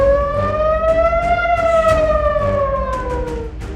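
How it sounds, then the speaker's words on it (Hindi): A wartime air-raid siren wails loud and steady, its tone slowly rising and then falling, with faint bursts of noise behind it. "क्या तेहरान में युद्ध का सायरन बजने वाला है?"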